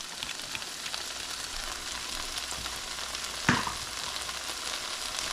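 Peppers and onions fry in a pan with a steady, dense sizzle throughout, broken once by a sharp clatter partway through.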